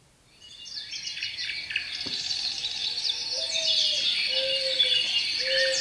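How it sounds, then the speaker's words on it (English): Birds chirp and trill steadily in a dense chorus, with a few clearer whistled calls, playing continuously through an Amazon Echo smart speaker with no talking. "Getting your bird sounds station from iHeartRadio."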